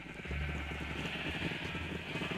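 A Minecraft sheep gives a short, close bleat over a steady noisy game background.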